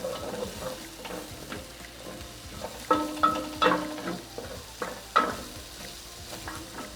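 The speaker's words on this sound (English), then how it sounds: "And then spring onion, the white parts. So we stir this in nicely." Spring onion whites being stir-fried in a hot pan for Mongolian beef, a steady low sizzle with a few sharper clatters of the spatula against the pan around the middle, close and without speech.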